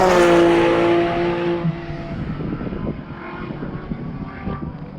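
A GT3 race car at a track event at Eagles Canyon finishes a lap, its engine note loud and close at first with a steady harmonic whine, then fading into more distant, broadband track noise.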